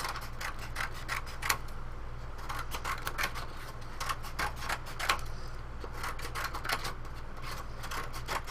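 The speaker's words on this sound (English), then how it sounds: "we're just going to cut this cardstock into longer strips" Scissors snip cardstock into long strips for a scrapbook canvas, a steady run of short, crisp cuts close by with a soft rustle of paper between them, no talking.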